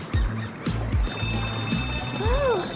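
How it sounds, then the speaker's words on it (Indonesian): A telephone rings with a bright electronic trill over a busy, noisy backdrop of thumps and a cartoonish melody, the ring sustained across the short stretch without talk. "Telepon."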